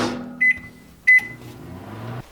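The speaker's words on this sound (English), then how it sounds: "Then we want to stick it in the microwave for about 30 seconds" A microwave oven hums steadily, with two short, bright electronic beeps sounding near the start.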